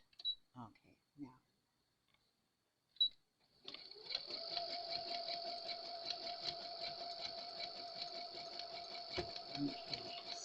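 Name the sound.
sewing machine stitching along a seam over orange yarn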